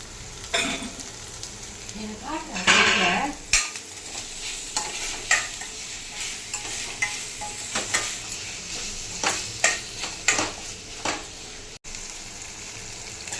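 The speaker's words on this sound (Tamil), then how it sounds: "தக்காளி வந்து நல்லா வதங்கிடுச்சிங்க" Onion and tomato with a pinch of salt sauté in a pan, stirred with repeated spatula scrapes and knocks over a steady sizzle, close and without talk.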